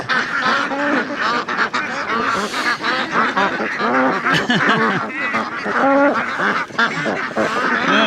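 A large flock of ducks at a duck farm in Phong Nha, Vietnam, quacks and honks continuously and loudly, a dense overlapping chorus with no pauses.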